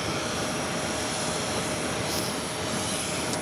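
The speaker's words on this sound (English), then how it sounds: "another British Airways 777 rolling down the 22 right" British Airways Boeing 777 jet rolling down runway 22 right at JFK, heard as a constant dense engine roar with a hissing high edge, steady and unbroken throughout with no voices.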